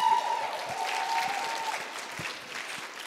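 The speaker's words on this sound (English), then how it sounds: "Another round of applause." An audience at a graduate research presentation final gives a round of applause, moderately distant steady clapping with a few sharper claps standing out and a faint tone running through.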